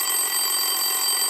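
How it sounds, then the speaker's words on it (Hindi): A telephone bell rings in a home, a continuous bright metallic trill held steady and alone. "एक दिन चाचा चौधरी जब अपने घर पर बैठे थे तो फोन की घंटी बजी।"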